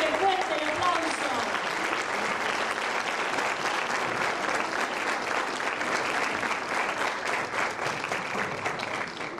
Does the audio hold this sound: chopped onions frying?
no